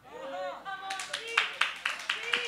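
Several sharp, spaced hand claps ring out in a church during a sermon, following a preacher's raised voice that dominates the opening.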